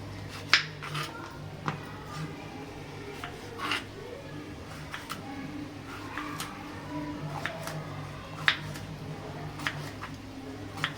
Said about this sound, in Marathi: बघा अशा पद्धतीने आपल्याला हा दोडका कापून घ्यायचा आहे